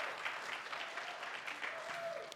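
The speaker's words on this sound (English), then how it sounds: "And yeah, clap." An audience applauds steadily after a church worship team's performance, a dense wash of many hands clapping at moderate distance, holding even throughout.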